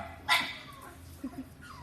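A dog gives a sharp, close yelp followed by soft, high whimpering cries, brief and intermittent over quiet background.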